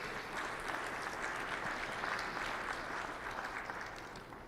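Audience at a county State of the County address applauding steadily, a dense, even wash of clapping that holds for several seconds and fades slightly at the end.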